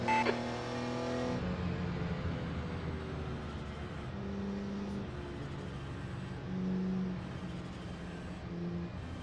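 Porsche 956 Group C race car engine idling and running at low RPM around 1985 Sebring, a steady rough drone with a brief higher rev at the start, heard from inside close by.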